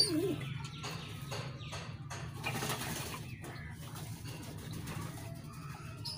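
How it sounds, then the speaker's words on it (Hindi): Pigeons coo in a low, steady murmur close by, while brief rustling and splashing bursts from the birds bathing break through at intervals. "देखिए दोस्तों सारे कबूतर जो हैं हमारे नहाने में मसरूफ हैं"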